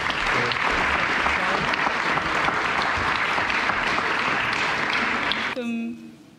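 Dense, sustained applause from a graduation ceremony audience at a high school Year 12 event fills the room, steady and loud for several seconds before a voice cuts in at the end.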